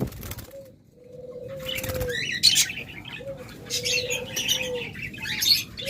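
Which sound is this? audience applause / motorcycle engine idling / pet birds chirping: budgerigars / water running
pet birds chirping: budgerigars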